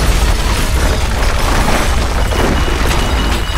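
Rocket explosions in the video game Modern Warfare 3, a loud continuous roar of blasts and rumbling debris filling the whole short span with no pause.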